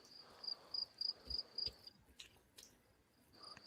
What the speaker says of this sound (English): But I can hear crickets out there.